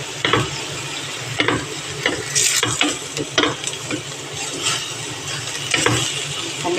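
Red spaghetti sauce with ground meat and tomato paste sizzles loudly in a pan while a ladle stirs it, producing repeated scraping strokes and clatters over a constant frying hiss, with no talking.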